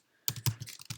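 Rapid keystrokes on a computer keyboard, close and clear, a quick burst of about five or six uneven clicks after a short silence, with no talking.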